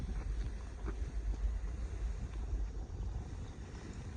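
Strong wind buffets the microphone outdoors in a continuous roaring rumble with gusty surges, loud and close, and no voices.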